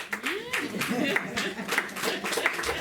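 A church congregation claps in praise of Jesus Christ, with rhythmic, evenly spaced claps under a voice speaking in the room.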